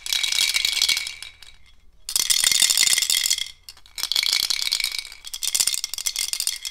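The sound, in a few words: homemade Montessori sound cylinders being shaken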